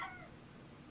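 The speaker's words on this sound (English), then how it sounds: "I hear a cat." A cat meows in a room, a single brief faint cry at the very start that fades out quickly against quiet background hiss.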